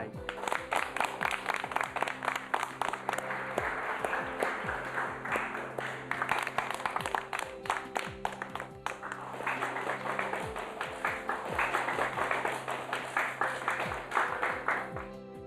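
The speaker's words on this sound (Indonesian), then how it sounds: "Kita beri tepuk tangan buat Fitri Rahayu." Audience applause for Fitri Rahayu, introduced as Pak Farel's fiancée, rolls on steadily for the whole stretch as dense, sustained clapping from many hands, with a tonal musical bed underneath.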